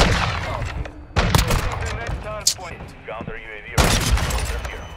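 Sniper rifle shots in a video game: two sharp, loud cracks about two and a half seconds apart, each with a ringing tail, amid game effects and voices.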